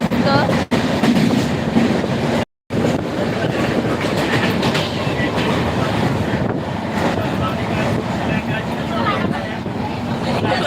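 Shatabdi Express passenger train running on rails, heard from inside with a loud continuous rumble and rhythmic clatter plus wind buffeting, briefly cut out once, while a person speaks over it.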